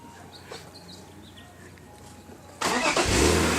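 A fully forged BMW S52 inline-six cranks and fires for its first start, jumping from a quiet garage with faint birds to a loud, steady idle roar after a few seconds.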